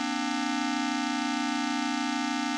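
Sustained chord from an HSS3jb audio-video synthesizer, a steady electronic tone with bright stacked harmonics holding level without a break.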